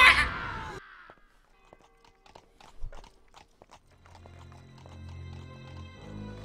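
A horse whinnies loudly in a cheap Steam horror game, then hooves clip-clop in a slow, uneven rhythm over a low rumbling ambience.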